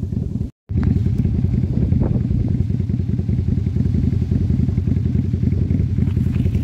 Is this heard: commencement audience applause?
no